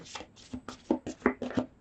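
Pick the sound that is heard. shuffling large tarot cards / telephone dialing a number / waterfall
shuffling large tarot cards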